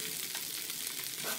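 Fish masala fry sizzles in a pan, a close, steady hiss of frying with faint stirring scrapes over the short stretch.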